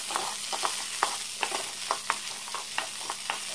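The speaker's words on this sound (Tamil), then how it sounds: "இப்போது ஒரு கடாயை எடுத்து அதில் லைட்டாக எண்ணெய் விட்டு வெண்டைக்காயை நல்லா வதக்கிக்கலாம்." Okra sautéing in a little oil in a kadai for mor kulambu gives a soft, steady sizzle. Light stirring clicks and scrapes land at irregular intervals, quiet and close, with no talking.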